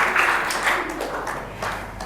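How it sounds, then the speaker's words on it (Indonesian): A classroom audience claps briefly after a group presentation, a short burst of scattered hand applause that tapers off within two seconds. "beri tepuk tangan untuk Raditya Giesa."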